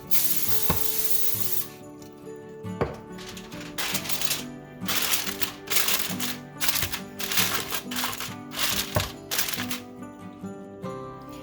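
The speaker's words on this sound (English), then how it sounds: "I'm going to spray it with some non-stick spray" Several short bursts of non-stick cooking spray hiss close by onto aluminum foil, separated by brief pauses, with a light tap or two between them.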